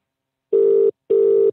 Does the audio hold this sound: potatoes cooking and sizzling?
no